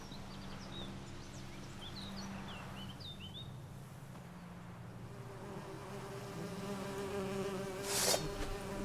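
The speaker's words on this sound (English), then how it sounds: "The birds singing, the bees buzzing." Buzzing insects, bees, drone steadily in a calm outdoor scene from the Witcher 3: Hearts of Stone video game, with faint birdsong chirps early on and a brief bright rustle near the end.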